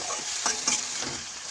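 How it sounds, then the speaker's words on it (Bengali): Brinjal and potato pieces frying in a pan for a saag recipe, a steady close sizzle with a few scraping stirs of the spoon breaking through. "এই দেখুন এইভাবে আমি কিছুক্ষণ ভেজে নিচ্ছি সবজি"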